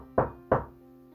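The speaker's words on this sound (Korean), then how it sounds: "그런데 누군가의 노크 소리가 들려." Two sharp knocks on a door, spaced about a third of a second apart, close and fairly quiet, with nothing else around them.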